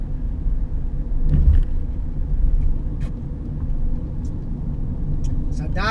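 Heavy traffic on a widening Philippine expressway: a steady low road rumble of cars passing at speed, with occasional higher whooshes and clatter, heard from inside a moving vehicle.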